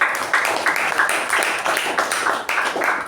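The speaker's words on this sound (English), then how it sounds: "So huge round of applause for these ex-com who attended the COTP training." An audience at a Toastmasters club meeting claps for several seconds, a steady patter of many hands at moderate loudness with no talk over it.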